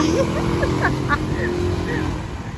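A car goes by outdoors, its steady engine and road rumble continuing throughout, with people chatting and exclaiming over it.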